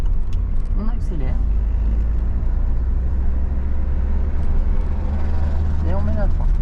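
Car accelerating during a driving lesson, a continuous low engine drone rising steadily, with an instructor talking briefly at the start and near the end.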